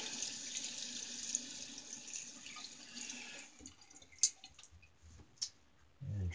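A safety razor is rinsed under a running tap, heard as a quiet, steady stream of water that stops partway through, leaving faint drips and small splashes.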